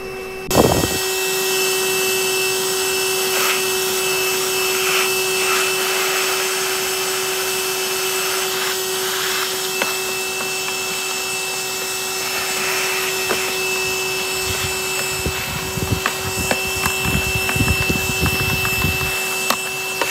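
Vacuum running steadily with a constant whining hum while catching a swarm of bees by an old tree, with occasional knocks and bumps toward the end.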